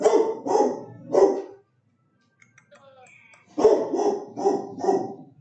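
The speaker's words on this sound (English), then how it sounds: "Big ol' ferocious dog." A big dog barks loudly and close in two rapid bursts of three and four deep barks, separated by a short quiet gap.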